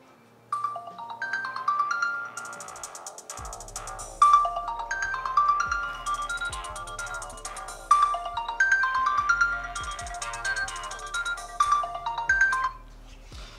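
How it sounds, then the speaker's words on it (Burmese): A bright, melodic Sony Xperia 10 Mark V ringtone plays alone from its front-facing stereo speakers, a repeating synth tune with plucky bass notes, loud and close, ending after about twelve seconds. "ကျွန်တော် Xperia ရဲ့ ringtone လေးကိုနားထောင်ကြမယ်"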